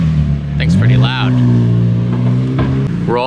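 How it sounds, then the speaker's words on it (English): A McLaren 765LT supercar engine, loud and close, with a rising, stepping rev and a rough, harmonic drone that holds and then climbs again, with a voice speaking briefly over it. "Nice 765 LT. Thing's pretty loud."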